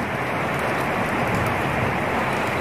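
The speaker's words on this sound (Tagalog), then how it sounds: "Ang lakas ng ulan" Heavy rain pours down in a dense, constant hiss with no pauses, loud and close as if falling on a roof or pavement outside a small shop.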